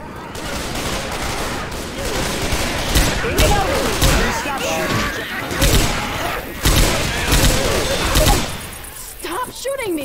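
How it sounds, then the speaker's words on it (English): Rapid, dense gunfire in the Left 4 Dead 2 video game, continuous volleys and sharp shots with thuds, while players shout and talk over the shooting. "Stop shooting me!"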